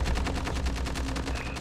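Rapid automatic gunfire in a Call of Duty 2v2 match, a steady, loud stream of closely spaced shots throughout.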